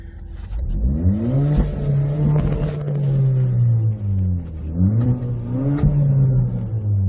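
A Hyundai Veloster engine revs repeatedly through a variable exhaust, the exhaust rising and falling in loud throaty pulls with pitch sweeping up and down, close by.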